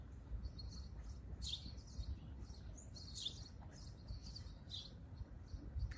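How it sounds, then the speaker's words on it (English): Small birds chirp at sunrise in Chicago, bright repeated tweets in short bursts over a low rumbling urban background, with no talking. "Birds are saying good morning."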